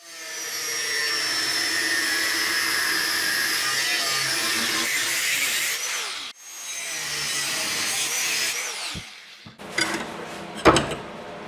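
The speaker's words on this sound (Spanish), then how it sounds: "voy a cortar un trozo de metal" Sustained high-pitched grinding of a piece of metal being cut for a motorcycle Bobber conversion, steady for about six seconds, a brief break, then resuming before trailing into scattered knocks and clanks; no talking.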